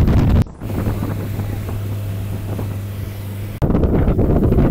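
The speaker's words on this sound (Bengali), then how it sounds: "আমাদের স্পিডবোটটা শুধু লাফাচ্ছে, কয়েক মিটার লাফাই উঠছে, আবারও পানির মধ্যে নেমে যাচ্ছে।" A speedboat crossing the open sea, its engine drone steady and close with wind rushing over the microphone, and a louder gust-filled burst of wind and water noise at the start and end.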